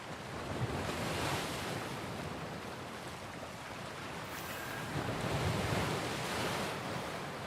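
Wind sweeps along a path in the video game Banishers: Ghosts of New Eden, a continuous rushing roar that swells and eases, surf-like and steady with no voices.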